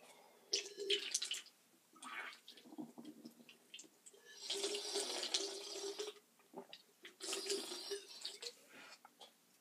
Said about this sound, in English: We're going to go and try to chug the rest of it.